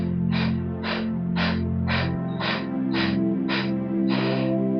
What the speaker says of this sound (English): very quickly through, in and out of the mouth, we're going to breathe in and out for 10 breaths